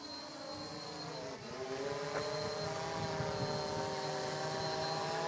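A Blade Chroma quadcopter flies in return-home mode, its steady propeller buzz holding at moderate distance and swelling slightly louder partway through, with no voices.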